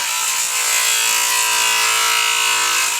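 Power tool cutting through a coconut shell to shape an earring, a loud, continuous high-pitched whine and rasp held steadily throughout.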